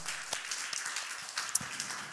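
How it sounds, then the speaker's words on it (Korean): Steady applause from a church congregation at a midnight New Year service, soft and somewhat distant, continuing throughout without any voices. "우리 그 주님께 찬양과 영광의 박수 올려드립니다"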